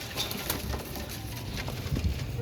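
Qasuri pigeons, a male and a female pair, coo in low soft murmurs over steady background noise, with a slightly louder burst of cooing near the end.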